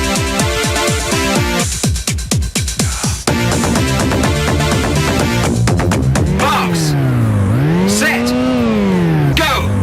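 An Amiga racing game played through an emulator on a Super Console X, with a synthesized car engine revving and pitching up and down under rapid repeated game beeps and chiptune tones, loud and continuous throughout.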